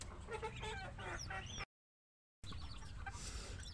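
Brightly coloured chickens in a brooding area cluck in short, repeated calls mixed with chirps, steady and moderately close, with a brief silent gap midway.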